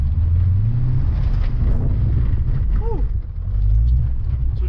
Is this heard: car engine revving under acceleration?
yes